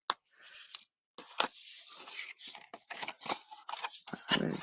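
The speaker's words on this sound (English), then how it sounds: "I'm going to just trim this down" Scissors snip papercraft card along its score lines, a quick run of close, crisp cuts with short pauses between them.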